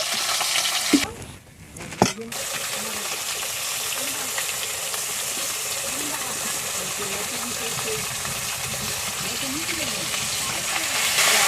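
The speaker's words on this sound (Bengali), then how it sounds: "বাকি মাছগুলোও ভেজে নিচ্ছি আমি।" Pond tilapia fish fry in hot oil in a pan, a steady sizzling hiss with a few stirring knocks early on, while a voice speaks now and then over the frying.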